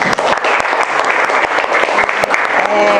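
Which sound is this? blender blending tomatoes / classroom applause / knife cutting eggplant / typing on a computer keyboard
classroom applause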